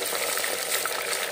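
Chicken sizzling with onions in a hot pan, a steady dense hiss and crackle of frying oil, close and even throughout, with no talking.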